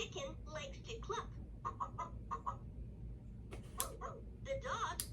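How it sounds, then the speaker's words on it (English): A talking children's spin-and-learn toy plays a recorded chicken clucking, a string of short, bright clucks and squawks over a soft background hum. "The chicken likes to cluck."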